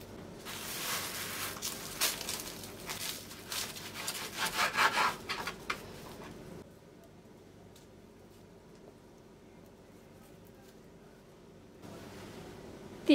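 A knife saws through freshly baked minced-meat pide for about six seconds with close, rough scraping strokes. After that only faint room quiet remains.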